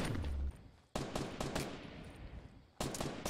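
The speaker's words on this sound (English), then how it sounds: "Oh god, they're shooting at me." Enemy gunfire in Fortnite Battle Royale: several sharp rapid bursts of shots with short gaps between them, moderately loud and with no talking over them.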